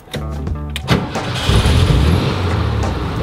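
An RV engine cranks with a fast rhythmic starter whir, stalls briefly, then catches and settles into a steady low rumbling idle, close and loud with no talking.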